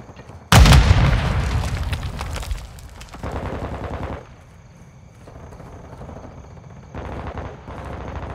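A frag grenade blows up in Call of Duty: Modern Warfare with one loud, close blast that rumbles and fades over several seconds. Scattered gunfire and battle noise follow.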